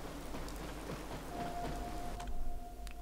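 Steady rain patters across the whole stretch in the video game Fallout 4, with a faint low rumble of distant thunder underneath and a thin whining tone midway.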